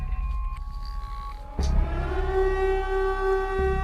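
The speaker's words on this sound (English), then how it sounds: "Her ears could hear the siren going off." A loud wailing siren sounds, joined by a sudden deep thump partway through, then holds a steady rising tone over low rumble.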